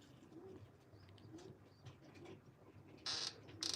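Arab breed pigeons coo in soft, repeated low calls at close range, with light rustling and a couple of sharp bursts of noise near the end.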